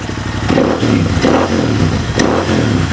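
A custom motorcycle with a custom tank and Power Range exhaust revs at close range, its loud, smooth engine rising and falling in repeated throttle blips over a steady idle.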